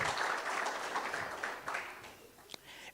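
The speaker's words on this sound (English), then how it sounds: "Please clap hands." Scattered hand clapping from an audience at a workplace wellness policy launch, moderately loud and tapering off, ending with a single sharp knock.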